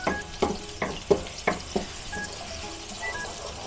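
Onion fries in oil for a Filipino chicken curry, a soft sizzle under several sharp spoon taps and stirring knocks at the start, then a quieter steady fry.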